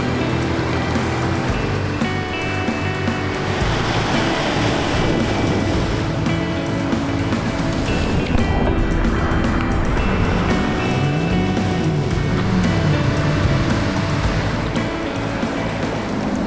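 An electric BYD Shark 4WD churns steadily through a rushing river crossing, a continuous loud wash of splashing with a motor droning underneath.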